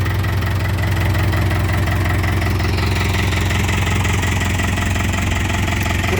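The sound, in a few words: John Deere tractor engine running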